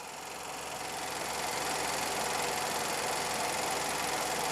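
Nissan X-Trail engine running steadily with a crank-no-start cam sensor circuit fault, a continuous broadband engine drone with a faint rhythmic knock, swelling slightly at first then holding even and close, with no talk.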